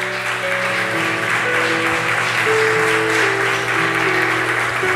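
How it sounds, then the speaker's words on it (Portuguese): A church congregation applauds in a steady, dense wash of clapping that runs the whole time, with sustained organ or keyboard tones held underneath. "Você pode aplaudir ao Senhor Jesus?"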